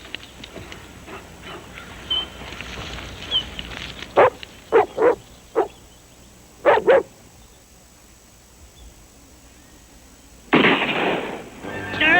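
Dogs bark at the start line of a competition: scattered yips, then a run of sharp, loud barks and a close pair, followed by a quieter lull and a burst of noisy barking at the end.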